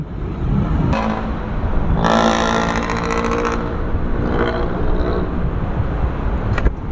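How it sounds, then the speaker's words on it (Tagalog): A jeepney engine rumbles and revs loudly as it passes nearby amid constant street noise, with a harsh rattling surge in the middle. "ganyan yung mga tunog ng jeep"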